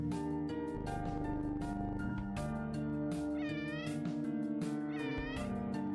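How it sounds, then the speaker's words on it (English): Cats meow repeatedly in the OneShot video game, several loud, wavering harmonic cries one after another, some rising into caterwaul-like calls, with no talking. "I heard a really deep purr."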